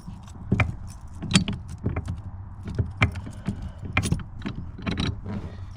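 A padlock clicks into place on a pedal lock in a VF Holden Commodore, with close metallic clacks, jangles and rattles coming in short bursts over a low background rumble.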